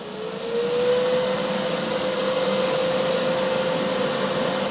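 A TIG welder powers up and runs with a steady electrical hum that holds a constant high tone, close and moderately loud, alone without any talk.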